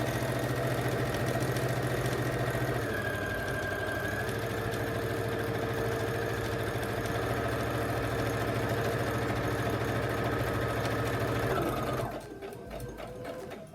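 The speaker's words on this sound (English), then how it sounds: "I'm just going to sew along the lines I've drawn on my lining fabric" Sewing machine running steadily for about twelve seconds, stitching along drawn lines on lining fabric for an oven mitt, loud and close, then stopping with a brief change in tone before the end.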